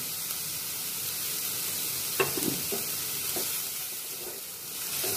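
Green chillies and onions sautéing with salt in a pan for egg curry, a steady close sizzle with a few brief spatula scrapes and taps partway through, no voices.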